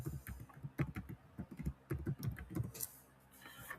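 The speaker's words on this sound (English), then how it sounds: "hold on, I'm typing something." Rapid, uneven bursts of keystrokes on a computer keyboard, soft and close, clattering in short runs with brief pauses before trailing off near the end.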